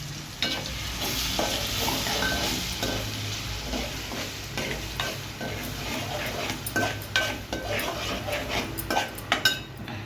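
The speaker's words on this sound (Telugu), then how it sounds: "చికెన్ అంతా తీసుకొని ఈ ఆయిల్లోనే అల్లం వెల్లుల్లి పేస్ట్ వేసుకోవాలి అల్లం వెల్లుల్లి పేస్ట్ వేసి బాగా వేగనివ్వాలి" Chicken frying in oil with ginger-garlic paste for a Telugu chicken pickle, a dense continuous sizzle with frequent scraping and clinking of a spoon stirring against the pan.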